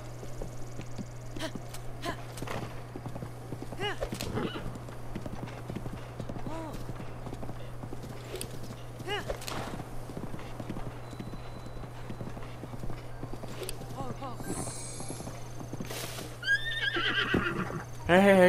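Hooves clip-clopping in a steady galloping rhythm with a few whinnies from a horse in Zelda: Breath of the Wild, a low constant hum underneath, and a person's voice talking over parts of it.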